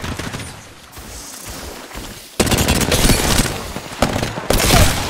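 Apex Legends gunfire: loud bursts of rapid automatic shots cut by short pauses, a dense close-range fusillade with brief talk underneath.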